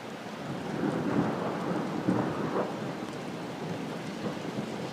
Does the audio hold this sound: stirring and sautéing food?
no